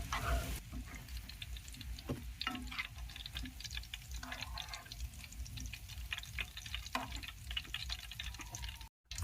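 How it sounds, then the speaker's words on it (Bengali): Semolina rasmalai pitha fry in hot oil, giving a faint, steady sizzle with small crackles and pops throughout and no voices. "পিঠাগুলো ভাজা হয়ে গেছে। এবার আমি তেল থেকে তুলে নিচ্ছি।"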